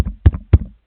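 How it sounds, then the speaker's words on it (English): A hand taps on top of a microphone, giving three dull, boomy thumps close to the mic in quick succession, under a second in all, with no talk. "it's just KSI tapping his microphone"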